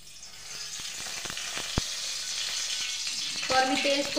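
Hot oil sizzling and frying steadily in a heated kadhai on a gas stove, with scattered crackles and pops, then a louder burst of spitting toward the end.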